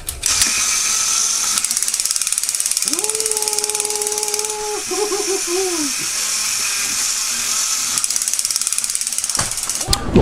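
A 1986 Son Ai Toys battery-powered toy mech runs close by with a constant rapid ratcheting gear clatter, joined midway by a rising and falling electronic siren wail, with no talking.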